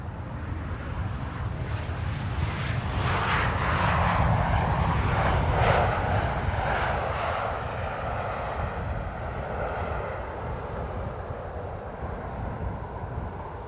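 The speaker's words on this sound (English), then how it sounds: "this is KLM Flight 1404 arriving from Paris" A KLM passenger plane on the flight from Paris arrives at Amsterdam Schiphol Airport, its broad jet roar swelling to a peak and then easing into a steady rumble, with no one talking.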